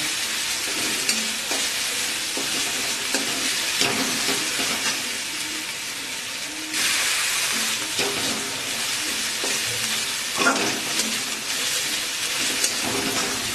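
Onions and ground spices sizzle and hiss steadily in a hot pan as they are stirred, with scraping strokes at irregular intervals. The frying is made while cooking a pomfret fish curry, and it continues without any talk.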